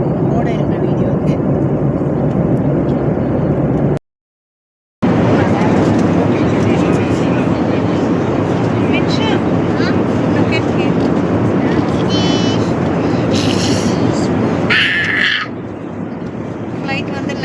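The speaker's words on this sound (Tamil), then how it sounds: "ஃப்ளைட் வந்து லேண்ட் ஆடிக்கிட்டு இருக்குது" Airliner landing in Sri Lanka at night, a steady loud engine and air roar that cuts out briefly and later eases, with faint voices and a few short chime-like tones near the end.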